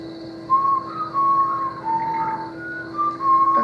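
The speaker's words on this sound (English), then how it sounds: "he was whistling a tune" A person whistles a tune alone, clear melodic phrases with short pauses between notes over a faint steady hum.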